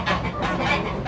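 Young rooster on a farm giving a hoarse, honking crow, a short raspy call repeated in quick bursts at moderate volume.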